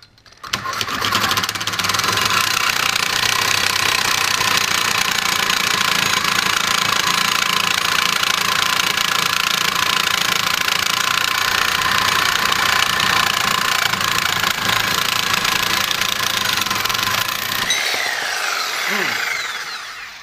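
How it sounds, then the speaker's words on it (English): A reciprocating saw fitted with a Diablo carbide-tipped blade cuts through 3/4 inch steel in one loud, continuous grinding run of about seventeen seconds, then winds down and stops. "carbide tipped blade from Diablo. We've seen it cut wood and nails in wood, and now let's just see what it does with this 3/4 inch steel"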